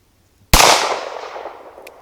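A Smith & Wesson 637 snub-nose revolver is fired single action at a hanging steel target outdoors, giving one sharp, loud close report that decays over more than a second, with a faint ping afterward.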